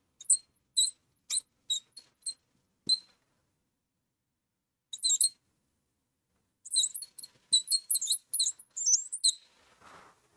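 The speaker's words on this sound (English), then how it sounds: "That's one squeaky pen." A squeaky marker pen writes on a board, a series of short, sharp squeaks in two bursts with a pause between, fairly close and alone with no talk.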